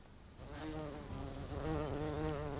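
A wasp buzzes steadily at its burrow, a close, continuous droning hum that wavers slightly in pitch, faint and alone.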